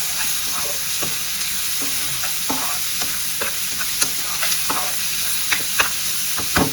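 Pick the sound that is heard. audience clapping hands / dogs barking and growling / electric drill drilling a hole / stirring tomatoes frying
stirring tomatoes frying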